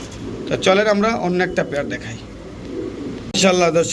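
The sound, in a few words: pigeons cooing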